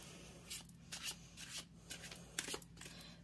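Tarot cards slide from a deck and get flipped out in a few quiet papery swishes and soft slaps, close but faint against a low steady hum, with no talking.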